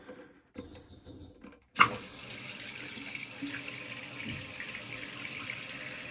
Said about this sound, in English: Slowly turn your water back on. Watch it fill up.